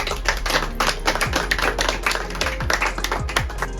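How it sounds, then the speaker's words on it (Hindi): Audience clapping at a speech on EWS reservation, a steady patter of hand claps running throughout over a low hum, fairly close, with no talk over it. "ऐसे प्रधानमंत्री जी के लिए जोरदार ताली हो जाए।"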